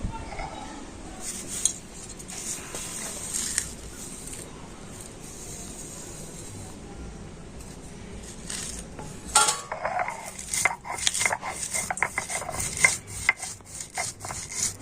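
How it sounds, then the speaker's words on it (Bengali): Roasted spices being ground on a stone slab with a stone roller (shil-nora) for mango pickle masala, heard as repeated rough rubbing and scraping strokes, close and rhythmic, growing louder in the second half. "আর ততক্ষণ আমি যে মশলাগুলো ভেজে নিলাম সেই মশলাগুলো শিলনোড়াতে গুঁড়ো করে নেব"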